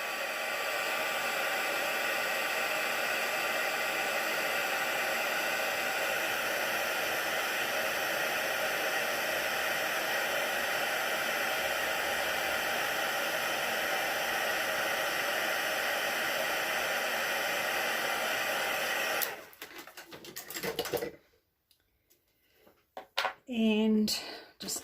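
A heat gun setting embossing powder on a card runs as a steady, loud, close roar for about nineteen seconds, then cuts off, leaving a few faint handling sounds and brief quiet.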